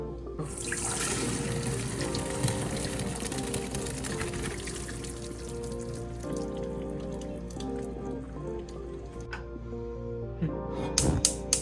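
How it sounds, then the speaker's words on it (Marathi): Water drains from cooked shrimp into a kitchen sink, a continuous splashing pour with trickles and drips that runs for several seconds, ending in a few louder splashes. "आणि आता मी पाणी काढणार आहे, त्यातलं ड्रेन करणार आहे पाणी"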